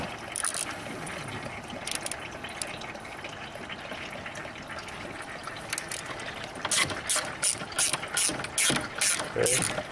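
A ratchet on a long extension and swivel unscrews a bolt beside the intake manifold of a BMW N55 engine, giving quick repeated clicking bursts, loudest and most rhythmic toward the end, over steady background noise.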